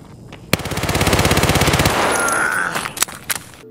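Automatic gunfire from a weapon in the video game Escape From Tarkov, with a long rapid burst of evenly spaced shots followed by a few scattered single cracks, loud and close with no talking.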